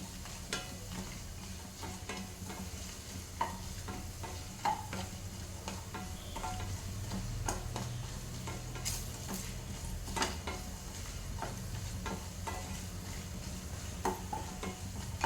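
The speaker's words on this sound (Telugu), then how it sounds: "కొంచెం ఫ్రై చేసుకోవాలి" Flattened rice (poha) frying in a pan for a garlic chili dish, with a continuous close sizzle, regular spatula scrapes and metallic taps against the pan, and a low hum beneath.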